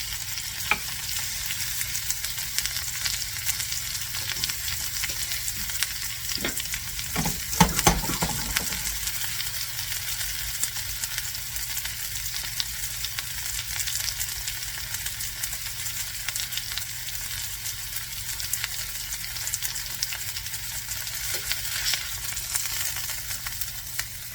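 Bone-in beef shanks sear in a hot pan with a loud, continuous crackling sizzle and a brief clatter of a utensil partway through.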